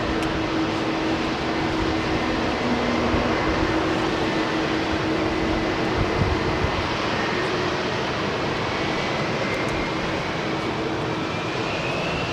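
An aircraft with Rolls-Royce Trent 700 engines at London Heathrow, a constant loud jet roar with a steady low tone and a slowly rising whine toward the end, uninterrupted and without voices.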